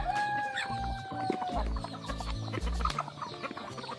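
Free-range village chickens clucking around a farmyard, a busy overlapping mix of close clucks and drawn-out calls from several birds, with no talk.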